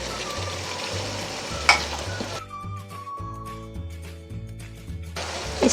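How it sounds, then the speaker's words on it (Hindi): Chicken sizzles and fries in a pan while being cooked for white pulao, a steady close hiss with stirring scrapes and a few clinks of utensil against metal. "इसको 2 से 3 मिनट हम और भुनेंगे खाली।"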